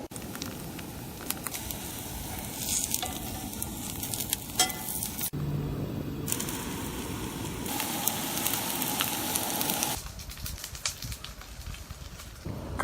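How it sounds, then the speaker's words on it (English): Smashed potatoes frying outdoors until golden brown, a steady crackling sizzle running throughout with shifting intensity and faint background noise, no voices. "Gonna fry them till golden brown."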